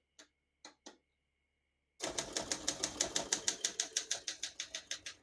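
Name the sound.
typing on a 1974 Olympia SM9 portable typewriter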